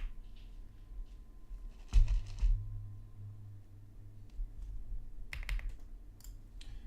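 Computer keyboard keys tapped in short bursts at a trading desk, a brief louder cluster of clicks early on and another quick run near the end, close and moderately quiet over a low hum.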